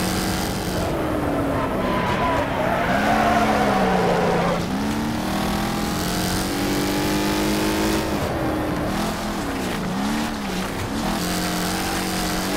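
Racing car engines roar and rev steadily in Wreckfest, a loud sustained drone with shifting pitch as the car accelerates and brakes through corners, no talking.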